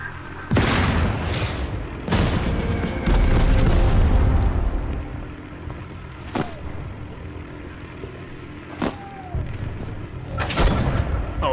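Bombs land in the Total Tank Generals war game, with several heavy booming explosions spread across the stretch, some close and loud, with rumbling decay between sharper bursts.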